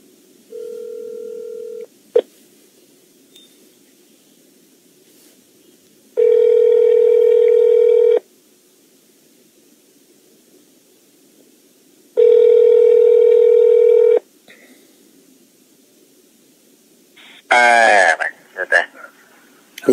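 A telephone handset plays a dial tone, then two long tone bursts like ringback, followed by a quick rapid sequence of dialing tones, each separated by quiet gaps.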